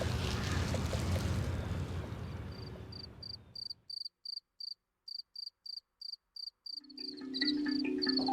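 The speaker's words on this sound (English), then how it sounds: "That was Cricket Orchestra from producer Lena Beck-Sillison." Crickets chirp at night in a cricket orchestra piece: a dense, loud wash of sound fades into a quiet stretch of steady, evenly pulsed chirps, then fuller layered sound returns near the end.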